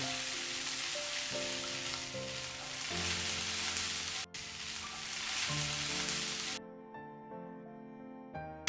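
Vegetables and spring onion stir-frying in a pan, a steady crackling sizzle of moderate loudness under background music, cutting away near the end as the music carries on alone.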